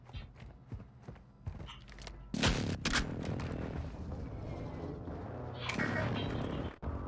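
An air strike in a video game brings a burst of rapid gunfire and heavy impacts, loud and sustained after scattered lighter clatter, with a brief break before a second surge.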